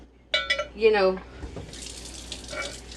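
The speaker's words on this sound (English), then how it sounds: "put some water on it, and make her some kind of like tea" Water is poured from a tap onto dog kibble in a bowl, a short splashing pour and trickle, followed by a softer hiss of running water. A faint voice is heard nearby.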